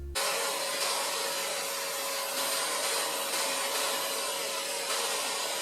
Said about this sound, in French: J'aspire tout, hein, parce qu'il y a vraiment beaucoup de poussière.